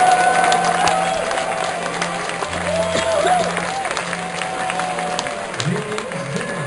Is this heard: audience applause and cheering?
yes